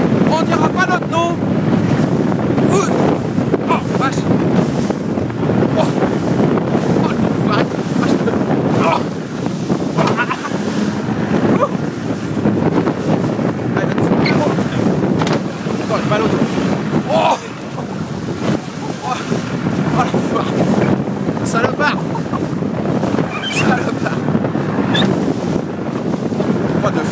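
A semi-rigid inflatable boat with a big engine races at full speed off Saint-Valery-en-Caux, its loud steady engine roar mixed with heavy wind buffeting and water slapping the hull, with brief voices now and then.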